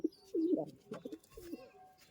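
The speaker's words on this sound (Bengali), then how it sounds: "এগুলো আমার প্রথম পায়রা" Giribaz pigeons from Murshidabad give a couple of soft, throaty coos in quick succession, close by and fairly quiet, with no talking over them.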